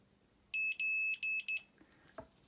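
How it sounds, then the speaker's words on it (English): Multimeter continuity tester beeping while checking a part of a GHD S7N261 hair straightener, four short loud high-pitched tones in quick succession, followed by faint clicks and handling noise. "Just get the one beep."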